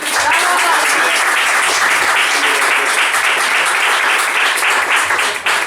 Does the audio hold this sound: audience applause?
yes